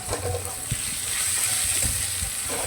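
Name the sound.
carrot pieces being stirred in a frying pan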